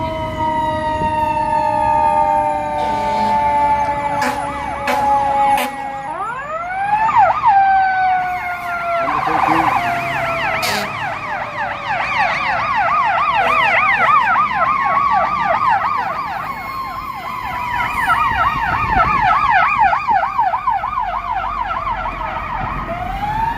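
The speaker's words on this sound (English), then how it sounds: "So here comes a fire truck." A fire engine siren wails and yelps as the truck passes along a busy downtown Chicago street near Randolph, loud and close with rising and falling sweeps, an air horn blast, and traffic rumble beneath.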